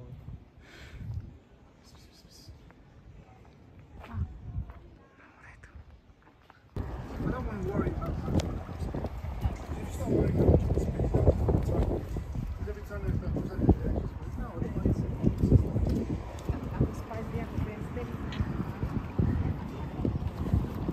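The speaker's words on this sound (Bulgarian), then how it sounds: "Има вятър, не знам колко добре ще се чуваме" Gusty wind buffets the microphone with a low rumbling roar, which grows much stronger partway through, while people talk underneath.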